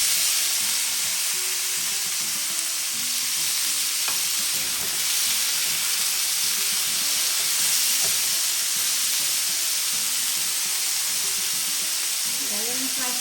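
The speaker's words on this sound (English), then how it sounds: "one pan the okra is frying, another pan I'm going to fry some potatoes" Okra and potatoes frying in two separate pans on a stove, giving a continuous loud sizzle with steamy hiss and occasional stirring scrapes, steady throughout with no pauses.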